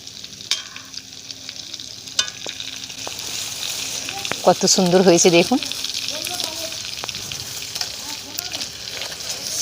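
Prawn cutlets frying in oil over low heat, a steady soft sizzle with clinks and stirring as the pieces are turned, loudest for a moment midway; someone speaks briefly over the cooking.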